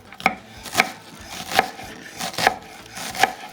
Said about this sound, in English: So now I'm just gonna mince the onions.